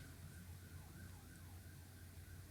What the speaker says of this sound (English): I hear a siren. That's very rare in this little town.